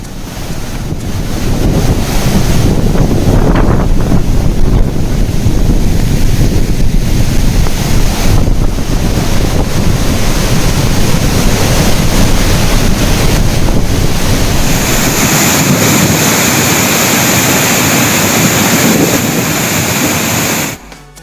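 A record flood surges through the Courtallam waterfalls, a loud, unbroken roaring rush of water with wind buffeting the microphone, continuing for about twenty seconds before cutting off abruptly.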